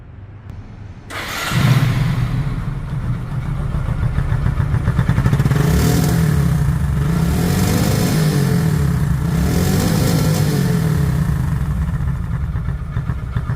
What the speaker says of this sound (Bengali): এখন গাড়িটির সাউন্ড শোনা যাক সাউন্ড শুনলে বুঝতে পারবেন যে ইঞ্জিন কোয়ালিটি কতটা সুন্দর আছে